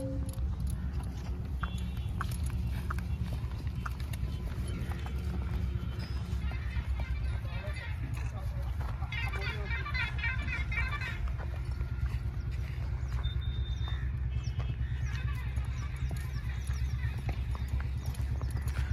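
At a horse fair, a black Marwari colt's hooves clop steadily, with an occasional whinny, over a constant low rumble of crowd and engine noise. People talk nearby throughout.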